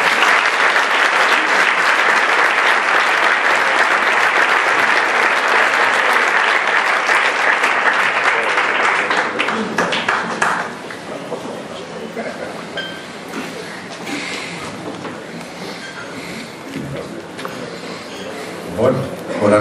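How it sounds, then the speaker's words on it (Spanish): Loud, sustained applause from an audience at the AMPE 2013 media awards gala, clapping strongly at first and then thinning into scattered claps and room noise. "Señor don José Manuel Rodrigo García, fuerte el aplauso, por favor"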